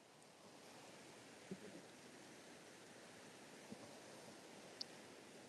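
Steady broadband rush of a river close up at Parc des Rapides, Montréal, in early spring, a continuous even wash of flowing water with a few faint clicks and no voices.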